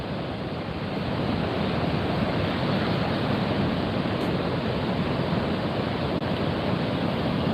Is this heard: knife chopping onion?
no